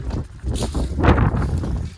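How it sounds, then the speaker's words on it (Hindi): Wind blowing outdoors in green mountains during an off-road trip in Uttarakhand: a gusty, rushing roar buffets the microphone in uneven swells, loud and close, with no speech. "बहुत मस्त हवा चल रही है।"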